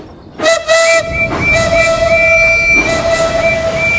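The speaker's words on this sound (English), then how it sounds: "Maybe we should blow our whistles." Steam engine whistles in a Thomas the Tank Engine themed Sodor Online video game, a loud sustained whistle tone starting abruptly and holding steadily over rumbling rail noise.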